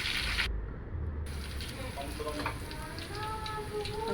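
Spring onions and ginger garlic paste frying in a pan for a Telugu broad bean and tomato curry, a steady close sizzle and crackle throughout.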